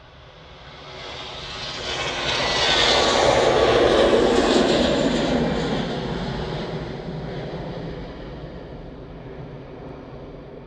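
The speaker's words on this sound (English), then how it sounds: "Next departure is just on the roll" A jet airliner on its take-off roll at Manchester Airport, engine roar swelling to a loud peak then slowly fading as it climbs away, heard alone without talk.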